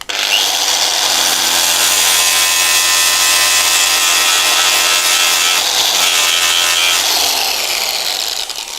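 A Tyrolit SCM abrasive on a power tool grinds a scratch pattern into a metal surface, making a loud, continuous whirring rasp with a steady motor hum that winds down at the end.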